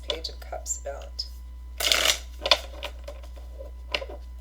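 Gilded Tarot Royale tarot cards being shuffled by hand, a series of soft papery riffles and flicks with one louder burst in the middle, under a faint steady hum.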